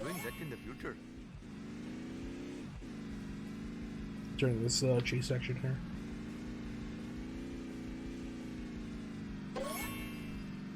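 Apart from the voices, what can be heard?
garbage truck driving in The Simpsons Hit and Run video game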